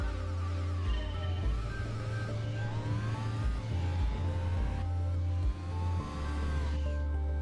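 Tacoma Pikes Peak race truck engine in a racing video game, revving loudly and continuously with rising and falling pitch as it shifts gears, close and alone with no talking.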